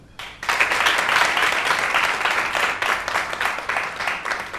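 An audience at a youth holiday event in Treichville bursts into loud, sustained applause, with dense, steady clapping that starts abruptly and carries on throughout, slightly uneven in places.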